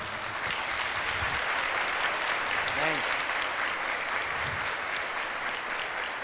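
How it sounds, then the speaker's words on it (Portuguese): A church congregation applauds steadily during a Sunday Mass homily, a dense, even wash of clapping filling the room throughout, with a brief voice rising over it midway. "Pode dar uma salva de palmas."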